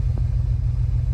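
A Volkswagen Golf Mk3 with a swapped-in 12-valve VR6 idles steadily, a deep, even low-end rumble holding close and loud for the whole moment with no talk.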